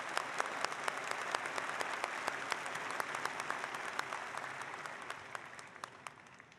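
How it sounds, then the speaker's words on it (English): Audience clapping at a university undergraduate commencement ceremony, dense steady applause from a large crowd with distinct individual claps, gradually tapering off toward the end. "Another round of applause for Mr."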